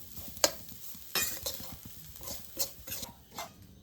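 Flattened rice (aval) with grated coconut stirred in a pan: irregular scraping strokes of a spoon against metal with a soft sizzle underneath, close and moderately loud, no talk.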